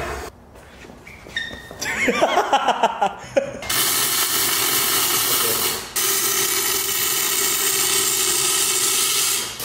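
Welding on the differential of a junkyard Nissan Skyline in a shop: a steady, loud crackling hiss runs for several seconds, briefly cut off and then resumed, after a short burst of mixed noise and voices at the start.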